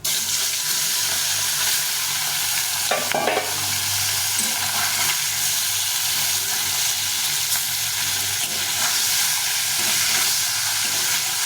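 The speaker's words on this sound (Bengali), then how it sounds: "তেলটা গরম হয়ে গেছে এখন মাছটা ভেজে নেব" Singi fish coated in salt, turmeric and oil frying in hot oil, a loud continuous close sizzle throughout with a brief stir or spatula scrape partway.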